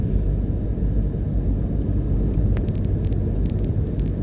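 A red car passes on a road at Twickenham Park, Jamaica, with a loud, heavy, continuous rumble that stays close, and a few sharp ticking clicks in the second half.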